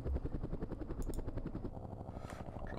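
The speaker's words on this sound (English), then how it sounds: "We have a helicopter." A helicopter in the Vietnam war strategy game Campaign Series Vietnam gives off a rapid rhythmic rotor chop with a whirring hum, faint and steady across a few seconds.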